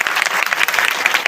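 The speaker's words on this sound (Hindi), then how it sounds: "अपनी सब टीचर्स के लिए ताली बजाओ तुम बच्चों" Children at a school annual day clap for their teachers, a dense, continuous patter of many small hands applauding together, close and lively throughout.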